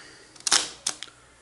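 Exakta Varex camera shutter being released, a sharp close mechanical clack followed by a second, shorter clack moments later, loud and alone.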